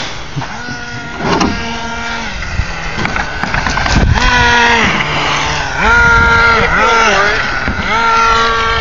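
Nitro engine of an HPI RC car running while it drives, rising and falling in pitch with throttle changes, loud and fairly close throughout.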